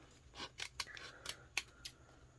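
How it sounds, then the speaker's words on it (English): Scissors snip around rub-on transfer sheets in a series of quick, close, crisp cuts, about six sharp clips spaced unevenly over a couple of seconds against a quiet room. "you're going to want to carefully cut around the ones you want to use"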